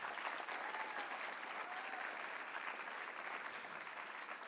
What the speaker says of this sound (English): giving him a nice round of applause for being here.